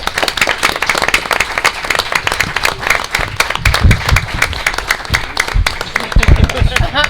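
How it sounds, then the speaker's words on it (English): Applause from attendees at a city council meeting, a steady wash of many hands clapping at moderate loudness, with talk over the clapping. "let's get a round of applause from everyone here"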